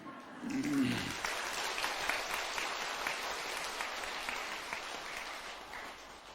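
Congregants at a Buddhist temple dharma assembly applaud in a steady, moderately quiet wash of clapping, after a brief spoken word at the start.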